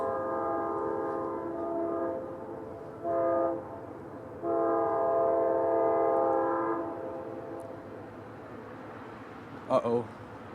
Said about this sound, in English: Guys, this is the auto train,